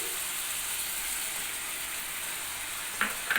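Spices, green chillies and tomato paste sizzling in a frying pan with fried potatoes, a steady close hiss with a brief clatter near the end, no talk.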